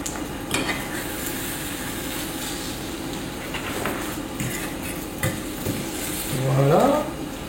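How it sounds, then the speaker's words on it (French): Swiss chard omelette frying in a pan and being stirred slowly, the edges folded toward the centre, with a steady soft sizzle and light scraping of the utensil against the pan, a little louder near the end. "Vous remuez tranquillement et vous rabattez au centre."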